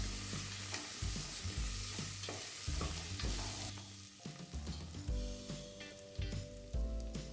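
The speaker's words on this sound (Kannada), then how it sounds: "ಒಂದು ಸ್ವಲ್ಪ ಎಣ್ಣೆಯಲ್ಲಿ ಫ್ರೈ ಆಗೋಂಗೆ ಚೆನ್ನಾಗಿ ಕಲಿಸ್ಕೊಳ್ಳಿ" Chana dal and moong dal frying in oil in a pan while being stirred for an amaranth stem saaru, with a steady close sizzle broken by scraping spoon strokes throughout.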